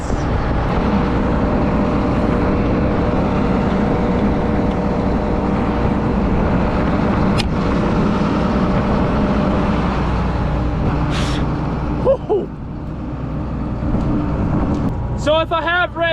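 A flax processing machine runs loud and steady, a continuous rumbling drone that holds throughout, with a brief sharp click partway and some squeaky, warbling noises near the end.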